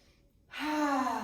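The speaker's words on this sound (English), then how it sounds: "deep belly breath in" A deep belly breath drawn in and released during a kundalini yoga breathing practice, a single long, close, airy exhale swelling after a brief quiet pause, heard alone.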